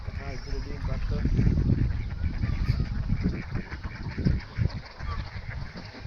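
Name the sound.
ducks quacking near river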